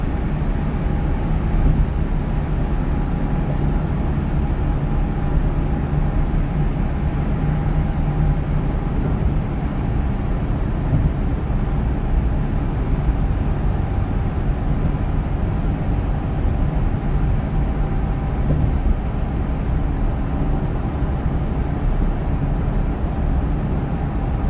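A one-ton truck drives through the Sejong underpass in Sejong City, Korea: a constant, heavy road rumble with a droning engine, enclosed and booming as if inside a tunnel, steady and loud throughout without speech.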